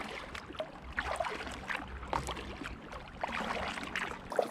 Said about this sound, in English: paddling sound on the GoPro